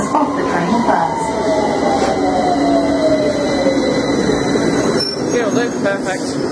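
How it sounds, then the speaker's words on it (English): A London Underground Victoria Line train pulls into the platform with a loud, continuous rumble. A long descending wheel squeal runs over the top of it, and a recorded platform announcement plays over the noise. "Please stand behind the yellow line as the train approaches."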